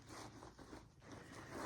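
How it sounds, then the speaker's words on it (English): Someone slides the zipper of the inside pocket on a vintage Coach handbag, a faint, close, rasping pull lasting under two seconds. "inside zipper pocket"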